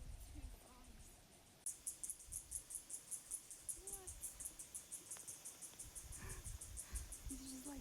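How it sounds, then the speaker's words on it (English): A frog calling near a swimming spot on a South African hiking trail gives a rapid, steady train of high, pulsed clicks that keeps going for several seconds outdoors, with a faint voice in the background. "I'm pretty sure that's, yes, that is a frog."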